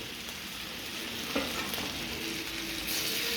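Marinated chicken fries in hot coconut oil in a pan, giving a steady, loud sizzle and crackle with a brief stirring clatter partway through and no voices.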